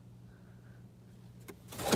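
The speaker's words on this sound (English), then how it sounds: "that car just pulled up" A car pulls up outside at night: a low steady hum gives way to a swelling rush of road noise near the end, close and growing louder.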